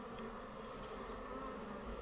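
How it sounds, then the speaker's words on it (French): Honeybees of a gentle strain hum steadily at an open hive during a beekeeping check of the queen's laying, a close, continuous buzz with no talk. "c'est vraiment des abeilles, une souche que je trouve vraiment super agréable à travailler"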